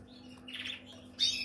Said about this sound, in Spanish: Este pájaro para mí me parece una maravilla.